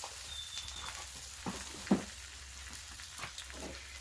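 French toast, bread dunked in batter, cooks on a griddle with a quiet, steady sizzle, broken by a few soft taps and scrapes as the slices are pressed down.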